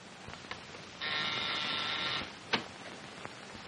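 A flat electric buzz sounds for about a second amid faint background noise, followed by a sharp click and a couple of softer taps.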